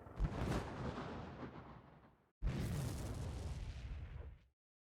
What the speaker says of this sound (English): Say goodbye to the gunfire.